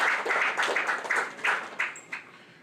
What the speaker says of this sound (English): it's a very laudable project and deserves a round of applause